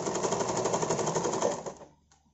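A sewing machine stitching a cloth face mask runs in a fast, even mechanical chatter for about a second and a half, close and clear, then slows and stops with a faint final click.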